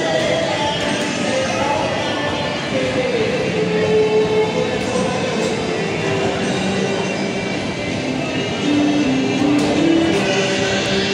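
A Singapore MRT train runs at Choa Chu Kang station with a steady rumbling hum, faint wheel squeal and shifting tones over continuous station noise, fairly close, with a voice faintly mixed in.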